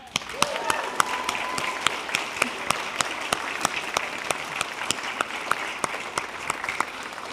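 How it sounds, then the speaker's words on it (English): An audience at a university awards celebration applauds steadily, with dense clapping and a few sharper individual claps standing out throughout. "Let's have one more round of applause"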